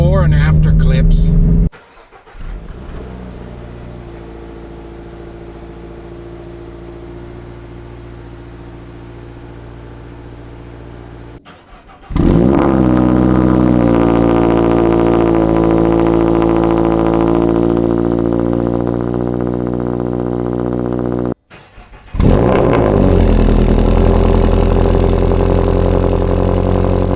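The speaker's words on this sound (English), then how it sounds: "Check out the cold starts, the before and after clips." A Toyota GR86 cold-starts twice with a loud crank and a rev flare each time, then settles into a steady idle hum. The before and after exhaust setups sound alike in shape, and the second start is a touch louder.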